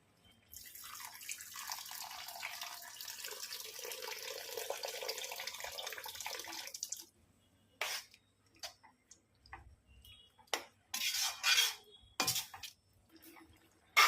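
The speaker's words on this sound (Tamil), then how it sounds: "வாங்க இப்போ புளி தண்ணி சேர்த்துக்கலாம்." Strained tamarind water pours steadily into tomato thokku cooking in a pan for about seven seconds, then gives way to sparse drips, clinks and short splashes, close and alone.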